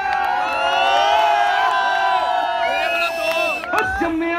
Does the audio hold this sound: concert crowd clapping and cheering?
yes